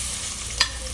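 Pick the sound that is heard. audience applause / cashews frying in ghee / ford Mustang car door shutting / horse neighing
cashews frying in ghee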